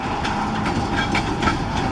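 Freight train hauling pulpwood and coil cars rolls past in a steady, loud rumble, with faint rhythmic clicks of wheels over rail joints throughout.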